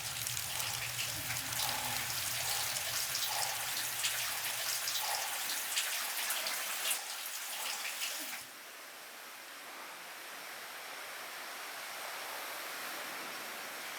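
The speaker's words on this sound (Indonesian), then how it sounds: "Nggak tahan meneh hujannya terus." Steady rain patters and hisses with scattered drops for about eight seconds, then eases to a much softer, quieter wash for the rest.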